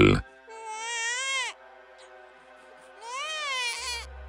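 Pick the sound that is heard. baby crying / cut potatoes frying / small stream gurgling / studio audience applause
baby crying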